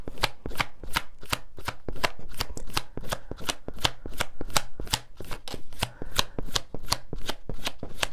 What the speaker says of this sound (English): Let's just get two more cards,